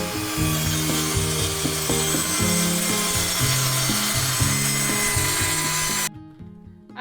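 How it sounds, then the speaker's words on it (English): A generator-powered saw buzzes steadily through wood for several seconds with rhythmic grinding pulses, close and loud, then stops abruptly into quiet. "These are the tools we are using for cutting the wood to size."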